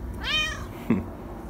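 A single clear cat meow close by, rising then falling, followed by a short low chirp over a soft background hum.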